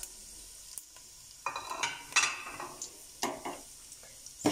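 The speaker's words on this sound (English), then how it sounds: "So now while the oil is still hot, I'm going to be adding in my spices" Whole spices crackle and sizzle in hot oil for a one-pot chicken biryani, with soft sputtering broken by several bursts of spoon scraping and stirring across the pot, close and moderately loud with no talking.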